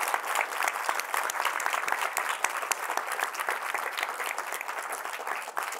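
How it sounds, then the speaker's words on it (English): Audience applause at an opening-remarks event, honoring Chetan Khosla: dense, continuous clapping from a sizable crowd, steady and fairly loud for the full stretch, with no voices over it. "I would like to take a moment for a round of applause for the person who came up with the idea in the first place,"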